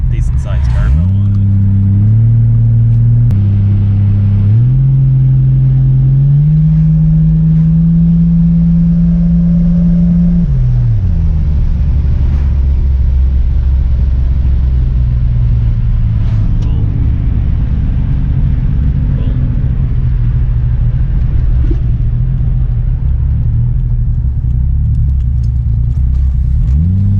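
A turbocharged Mk3 Toyota Supra drones loudly and continuously from inside the car as the engine climbs and holds through boost, with shifting pitch and later a deep steady rumble, while people talk over it.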